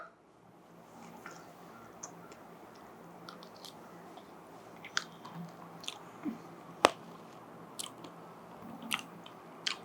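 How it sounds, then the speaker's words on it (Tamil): Someone chews and bites into homemade puttu ice cream topped with Gems candies, giving soft, close, wet chewing with a few sharper crunches and clicks scattered through, and no talking. "இனி நம்ம புட்டு ஐஸ்கிரீமை டேஸ்ட் பண்ணி பார்க்கலாம்"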